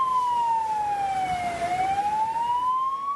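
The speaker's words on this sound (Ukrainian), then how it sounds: "пронизливі звуки сирен" A loud siren wails nearby after a ballistic missile strike in Zaporizhzhia, Ukraine, during the morning rush hour, its pitch sliding down and then rising again over steady traffic noise.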